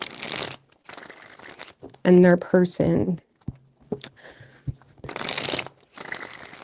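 Tarot cards riffle in a quick, crisp shuffling burst near the middle, set between stretches of a person talking.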